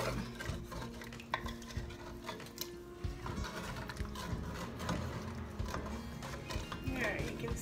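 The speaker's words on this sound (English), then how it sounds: "all those scraping sounds is going to turn into a nice smooth" A utensil scrapes and stirs chicken paprika stew steadily against the bottom of a pan, with faint sizzling and clinking underneath, fairly quiet throughout.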